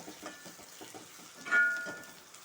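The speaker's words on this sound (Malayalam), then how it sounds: "ഉള്ളി നന്നായി വറന്നിട്ടുണ്ട്" Onion frying in oil for semiya kichadi gives a soft, faint sizzle with rhythmic stirring scrapes and one brief louder surge partway through.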